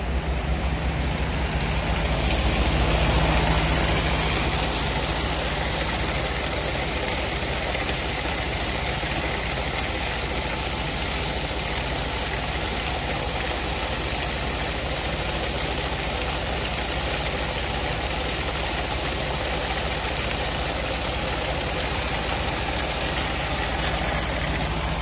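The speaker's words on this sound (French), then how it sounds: "c'est chiant avec ce petit tracteur là" A small farm tractor engine runs steadily at close range, a loud continuous rumble with no break for the whole stretch.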